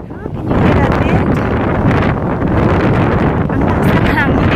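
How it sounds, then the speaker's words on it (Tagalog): Strong gusting wind buffets the microphone on a hillside where paragliders fly, a loud, continuous roaring rumble that swells and holds without a break, with a voice faintly present beneath it. "Can you hear that wind?"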